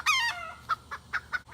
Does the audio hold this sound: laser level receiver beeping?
no